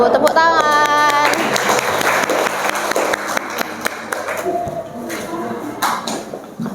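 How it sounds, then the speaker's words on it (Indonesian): Students in a classroom clap after a group presentation, a loud burst of mixed applause with scattered taps and shuffling, while a voice sounds briefly at the start. "Tepuk tangan."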